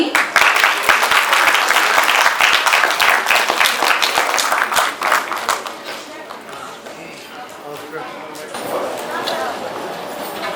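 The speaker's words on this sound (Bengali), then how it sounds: "জোরে করতালি।" Loud, dense applause fills a ceremony hall at a Nazrul Academy evening honoring the national poet Kazi Nazrul Islam, continuous clapping from a large audience that thins slightly midway then swells again, with some talk underneath.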